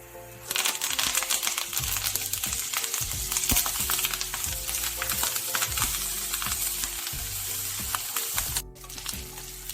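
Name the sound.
curry leaves frying and being stirred in a pan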